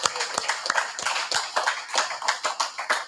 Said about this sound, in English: I'm sure you want to give our candidate for St. Lucie, Madam President, another round of applause.